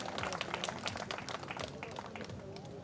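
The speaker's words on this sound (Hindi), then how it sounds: "भाई योगेश्वर दत्त जी का बहुत तालियां बजाकर मैं आप लोग स्वागत करें।" A crowd at a Haryana political rally claps to welcome wrestler Yogeshwar Dutt, steady dense applause running throughout with voices mixed into the noise.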